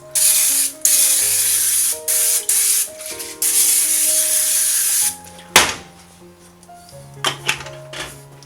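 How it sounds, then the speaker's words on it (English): Several short and long bursts of Pam olive oil cooking spray hiss from the can, close and loud, with brief gaps between them, followed by quieter kitchen clatter. "I also get Pam olive oil. I use a little bit of spray."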